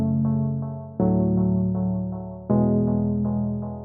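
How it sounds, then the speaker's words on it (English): A melodic synth from a beat, pitched down an octave, plays sustained chords in a slow pattern of repeated notes, with two new attacks as it goes, clean and moderately loud with no voices. "so I went into the synth sound in the verse section, just pitched it down an octave"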